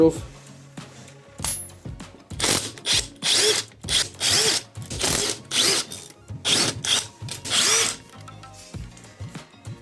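A ratchet wrench loosens the bolts on a 1PE40QMB two-stroke 50/70cc scooter engine with bursts of rapid clicking, about eight to ten repeated strokes, close and loud.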